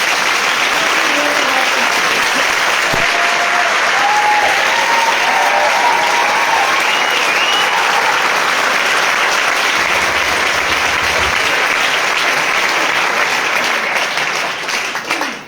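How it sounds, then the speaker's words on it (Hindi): Loud, sustained applause from a large church audience, dense clapping filling the whole stretch without a break and tapering slightly at the very end. "तो चलो एक बार जोरदार ताड़ियां यीशु मसीह के लिए मारो।"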